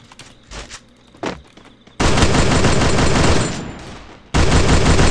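Gunfire in the Free Fire battle royale video game during training mode: sustained loud bursts of rapid automatic fire, two long dense volleys after a couple of lighter, isolated shots, with no talking over them.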